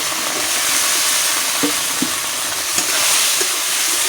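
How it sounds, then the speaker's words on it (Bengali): Spices, salt, turmeric and tomato frying in a pan for katla kalia, Bengali fish curry, a dense steady sizzle with a few soft spoon scrapes, close and loud, no voices. "খুব সুন্দর করে এখন মশলাটা আমি কষিয়ে নেব"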